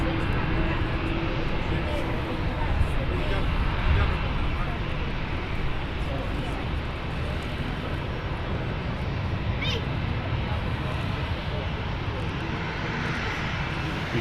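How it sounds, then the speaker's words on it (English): British Airways Airbus A380 jet at Manchester Airport, a steady, broad engine roar at a distance that holds throughout without breaks. "British Airways Airbus A380"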